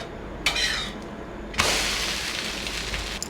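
A thick mudakathan dosa flipped on an oiled pan over a medium flame: two sharp bursts of frying hiss, the second louder, each settling into a steady sizzle nearby.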